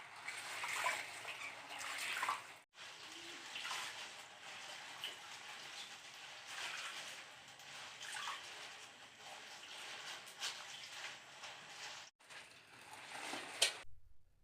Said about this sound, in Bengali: তো এখন আমি কচু পাতাগুলোকে ভালো করে ধুয়ে নেব।